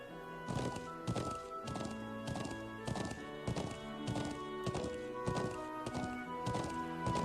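Horses walking at a nomadic settlement in the Trails of Cold Steel video game, a steady, evenly paced clip-clop of hooves over a quiet musical backdrop.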